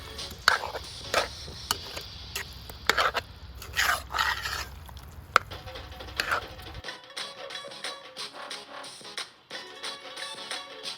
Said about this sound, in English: Now it's time to add the potatoes and stir it well into the curry masala mixture.